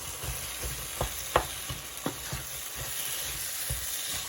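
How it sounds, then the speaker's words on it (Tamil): Garlic rice being tossed and turned with sauce in a frying pan: a steady low sizzle with irregular, close spatula scrapes and knocks against the pan, no voices. "நான் இப்போ இந்த சட்டிலேயே அப்படியே இந்த ரைஸை போட்டு பிரட்டுறேன்"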